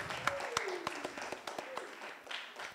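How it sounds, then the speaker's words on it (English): Audience clapping at a school trivia final between Strathmore High and Kianda School, a scattered crowd of hands with sharp individual claps over a steady patter, with some talk mixed in. "give them a round of applause for that round"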